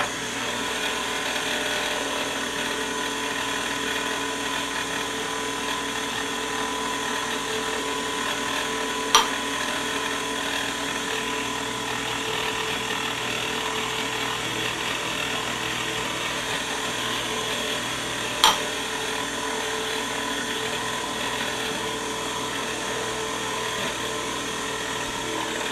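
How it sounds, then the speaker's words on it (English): An electric mixer runs at low speed while flour goes into a batter for toffee bars, giving a steady, even mechanical whir with a faint gear-like rattle and two brief clicks, with no talking. "while the mixer's running on a low speed"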